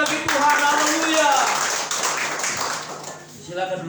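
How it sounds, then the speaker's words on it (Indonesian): Church congregation clapping during a Sunday worship service, a brief burst of many hands with a voice sounding over it and some ringing tonal sound underneath. "Tepuk tangan bagi Tuhan."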